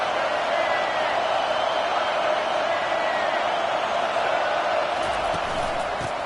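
A stadium crowd roars behind the defense on a third down at an Alabama football game, a steady, loud, distant wash of cheering that holds throughout.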